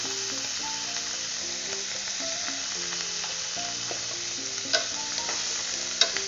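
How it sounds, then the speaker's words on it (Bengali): Turmeric is being stirred into a homemade amla (Indian gooseberry) pickle with a little released liquid, a steady soft wet stirring and scraping with light clinks, two sharper taps near the end and no talking. "হলুদটা ভালো করে মিশিয়ে নিচ্ছি"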